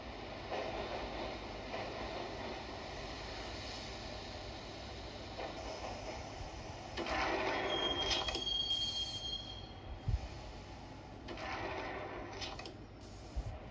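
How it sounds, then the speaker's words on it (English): A subway train in Max Payne rumbles along steadily, with rising swells of wheel noise, a thin metallic squeal, and a sharp clunk as it travels. "the train doors had already shut behind me, and I was in for the ride."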